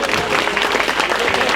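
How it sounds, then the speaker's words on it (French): Crowd applause at a rural protest in a French village, a dense, steady wash of clapping from many hands, loud and continuous throughout with no voices breaking through. "Donc applaudissements pour eux s'il vous plaît."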